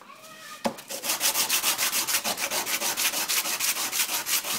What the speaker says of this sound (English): Fresh sandpaper.